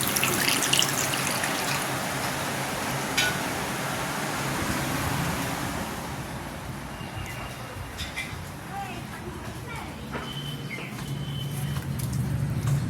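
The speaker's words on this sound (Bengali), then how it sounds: "গাছে জল দেবো তাই একটু ভরছে" Water running from a tap into a container to be used for watering plants: a continuous broad rushing trickle, nearby and fairly loud, easing off halfway, with faint birds and background noise.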